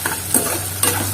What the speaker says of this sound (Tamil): இப்போ இது நல்லா வந்து பொன்னிறமாக வறுத்து வரணும்